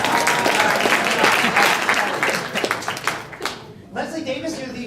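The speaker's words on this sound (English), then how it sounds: "Wow, round of applause for the shortest." An audience at an elections forum claps for about three and a half seconds, a dense burst of many hands that fades out before a voice starts speaking.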